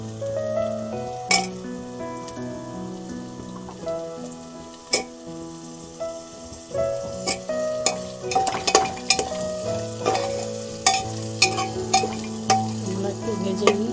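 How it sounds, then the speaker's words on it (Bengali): Potato pieces fry in a pan with ginger and garlic, making a soft sizzle broken by frequent spatula knocks and pan clatter, all under steady background music. "আলুগুলো দিয়ে একটু ভেজে নেব।"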